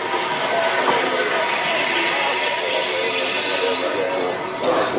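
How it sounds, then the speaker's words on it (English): A mainline steam locomotive gives a broad, continuous, loud hiss of steam that stays steady throughout, with voices faintly mixed in. "fleet of mainline approved steam locomotives for excursion work"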